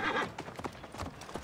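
Horse hooves clop in a rapid galloping rhythm in Assassin's Creed: Origins, with a brief whinny near the start, close and fairly loud over game ambience.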